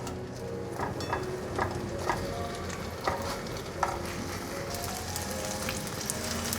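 A vegan radish and shiitake mushroom cake pan-fries in oil, producing a steady, soft sizzle with light, irregular crackles and spits nearby.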